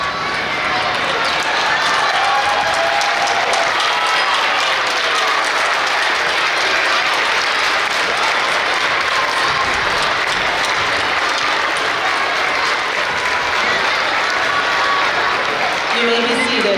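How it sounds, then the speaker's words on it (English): Sustained applause from a large crowd at a school assembly, dense and steady without pause, with a faint voice underneath. "would you please stand so we can give you a round of applause?"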